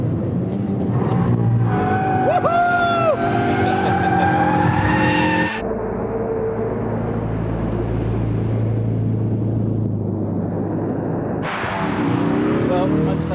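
A Ford Focus RS in drift mode howls at speed with loud, sustained tire squeal and skidding, the engine roaring close by, then shifting to a rougher rumbling skid before squealing again; voices are heard over it.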